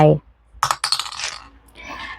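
Oracle dice for a Thai birth-day fortune reading, rolled by hand: a couple of quick rattling clatters, then a softer tumble, close up and alone.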